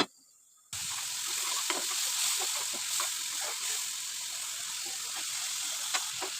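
Chili and spices sautéing in a pan for loitta fish curry, a steady loud sizzle that starts abruptly after a brief silence, with occasional light scraping stirs over the continuous hiss.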